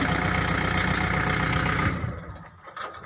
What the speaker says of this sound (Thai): ดึงรั้วนะครับ ใช้รถไถดึงเลยนะครับ